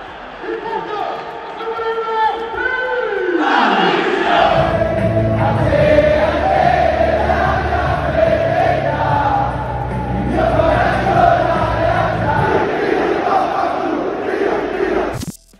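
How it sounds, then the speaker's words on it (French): Football fans chanting in unison at Stadio Olimpico, a loud sustained crowd roar of voices singing together from the stands, filling the stadium without pause. "Il y a vraiment des chants en permanence."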